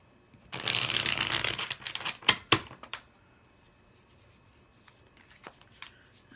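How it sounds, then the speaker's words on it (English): Tarot cards from a Spirit Keeper's Tarot deck being shuffled close up: one crisp riffling burst of about a second and a half, followed by several sharp taps and soft card handling noises. "I am going to go ahead and shuffle my cards"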